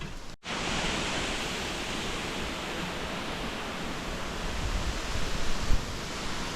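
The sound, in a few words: waterfall, Maral Waterfall in Borçka, Artvin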